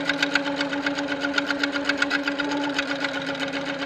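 A sit-down longarm quilting machine stitches at a fast, even rhythm, its motor humming under a rapid mechanical chatter, close and steady throughout.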